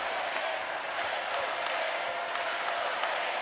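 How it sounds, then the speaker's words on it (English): Home crowd at a college volleyball match cheering and applauding, a dense steady roar of many voices and claps filling the arena. "The hometown crowd trying to encourage the Panthers"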